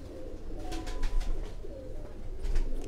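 Pigeons coo softly in a loft, several low repeated calls near and far with faint rustling and bird noise around them.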